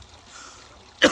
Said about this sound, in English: I don't know where this cough has just come from.